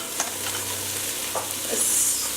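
Finely diced yellow onion hisses and sizzles steadily in a hot pan after browned beef has been cooked in it, a close, continuous fry with a few soft stirring scrapes.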